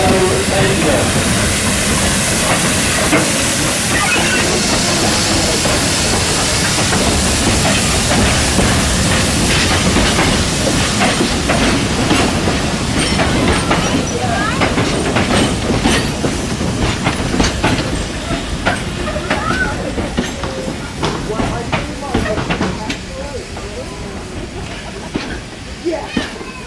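Steam locomotive NG123 runs past at Bennett Brook Railway, a loud, sustained rumble with rhythmic wheel clatter and steam hiss that swells and then slowly fades, with people chattering faintly nearby.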